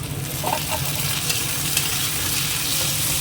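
Tomatoes dropped into a pan of frying onions, a loud, dense, steady sizzle close by with faint stirring, no talking.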